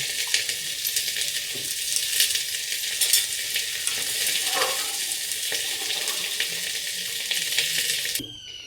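Vegetables frying in a pan with bay leaves, ginger, cumin, cloves, cardamom, chillies and peanuts for khichdi, giving a steady close sizzle throughout with faint stirring scrapes, stopping abruptly near the end.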